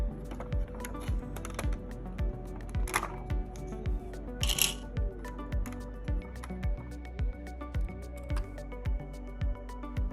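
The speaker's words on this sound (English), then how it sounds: "I could listen to that LEGO clicking sound literally all day" LEGO pieces clicking as panels on a custom Gozanti cruiser model are popped open: a steady series of small, crisp plastic clicks, close and fairly even in rhythm, with a couple of brief rattles.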